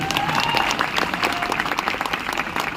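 A large audience in an indoor stadium breaks into dense, steady applause with many overlapping claps, loud and sustained over the whole stretch.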